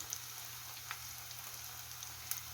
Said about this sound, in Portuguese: A gente vai deixar fritar até ficar douradinho